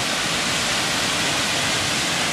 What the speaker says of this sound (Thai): น้ำไหลมาจากเชิงหมดแล้วครับ